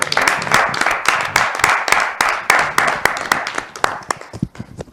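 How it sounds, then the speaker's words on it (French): A small group claps in a loose, rhythmic pattern, with close, distinct hand claps swelling and fading in waves before thinning out. "On peut applaudir hein"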